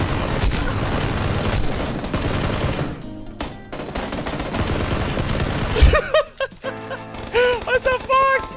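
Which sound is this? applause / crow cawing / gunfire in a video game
gunfire in a video game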